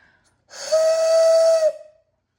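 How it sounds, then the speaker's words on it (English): A Thomas the Tank Engine toy whistle gives one breathy, steady steam-whistle blast lasting about a second, close and clear in a quiet room. "this is a Thomas whistle"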